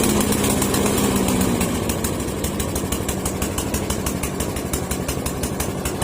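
A Snapper lawn mower engine, recently repaired after misfiring and hard starting, runs steadily and loud and close throughout, with a dense, even drone and rapid rhythmic firing pulses and no talk.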